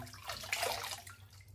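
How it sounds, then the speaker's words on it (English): A double-edge safety razor is dipped and swished in water during a wet shave, making one brief, soft splash, quiet and close. "I'm just going to give it a quick dip in the water"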